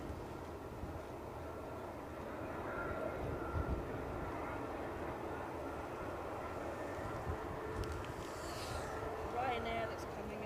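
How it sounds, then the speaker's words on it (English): A Ryanair airliner inbound from Copenhagen lands at Edinburgh Airport, its engines a steady, moderately distant rumble and whine that swells slightly midway, with a voice talking over it. "Ryanair inbound from wonderful Copenhagen"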